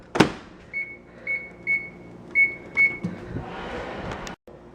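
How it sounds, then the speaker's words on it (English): A microwave oven heating pickle brine: a sharp clunk, then a row of five short beeps, followed by a low whirring hum as the oven runs, all up close. "And then I'll put that in the microwave and microwave it till it's boiling."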